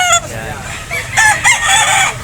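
A bullstag rooster crows loudly at an outdoor livestock market, one long drawn-out call with a few rising bursts, close by, with faint background chatter.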